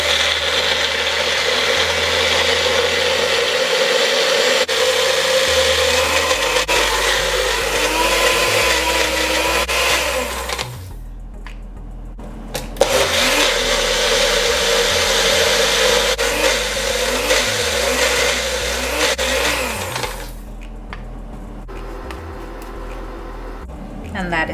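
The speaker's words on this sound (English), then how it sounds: "And we'll blend this until it's smooth." A blender purees soaked cashew nuts with water in a steady, loud whir that runs for most of the time, briefly cutting out and restarting, with a voice speaking over it at points.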